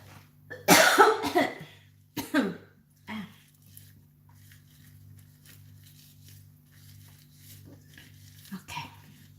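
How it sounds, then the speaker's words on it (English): A sudden fit of close, harsh coughing in a kitchen during cooking, with two or three loud bursts near the start, then quieter throat sounds and a faint final cough. "Oh, I'm having this really strange cough. Comes just suddenly."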